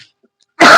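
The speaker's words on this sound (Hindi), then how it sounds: "थोड़ा सा गला खराब हो गया है, इसकी वजह से खांसी आ रहा है बार बार" A single short, loud cough from a teacher with a sore throat, bursting abruptly after a near-silent pause during a math lesson indoors.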